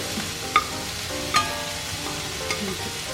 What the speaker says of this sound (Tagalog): Mix it slowly. Gentle mixing.